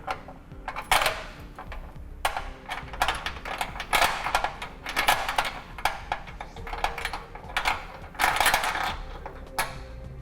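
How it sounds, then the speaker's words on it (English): Sharp metallic clinks and rattles of a carriage bolt and square-hole spacer block being fed up into the frame of a 2011 Mazda CX-7 during a Curt trailer hitch receiver install, in irregular close bursts with no talking. "thread a carriage bolt into place, feed both back up into the vehicle's frame"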